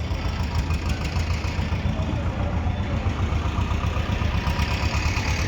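A tractor engine idles steadily with a low, continuous rumble and rhythmic knocking, close by and unchanging throughout.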